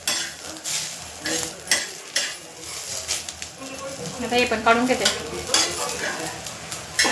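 Coriander, ginger and garlic roasting on a hot tawa, with repeated metallic scraping and stirring clinks over a soft sizzle while someone talks.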